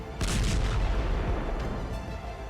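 Repeated heavy booms from drone-attack explosions over Erbil province, Iraq, rolling together into a loud, sustained rumble of blasts with no talk.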